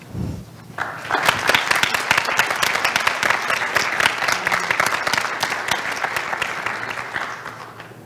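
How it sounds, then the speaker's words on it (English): An audience at a 2019 induction ceremony breaks into sustained applause after a short quiet start, many hands clapping in a dense, steady patter that holds loud throughout and eases only slightly near the end, with no talking over it. "Please give them another round of applause."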